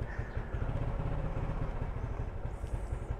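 An EasyRide 150P motorcycle with a carburetor idles on a cold start, its single-cylinder engine putting out a quick, uneven low chug and clatter at close range; no talk.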